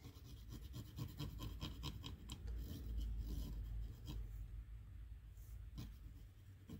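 A cotton swab scrubs back and forth across corroded pins of a Super Game Boy cartridge, giving a close, steady rasping rub with rhythmic strokes throughout.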